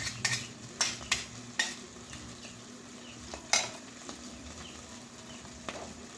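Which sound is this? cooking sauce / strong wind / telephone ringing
cooking sauce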